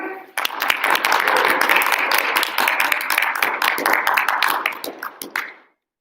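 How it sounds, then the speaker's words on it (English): A small group claps for a speaker at a debate, the applause starting abruptly, holding steady with some distinct individual claps, then thinning out and stopping. "claps for Nick"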